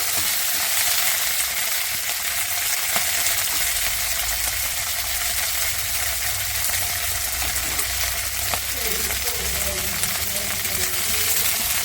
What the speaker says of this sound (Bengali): লঙ্কাটা একটু ভেজে নেব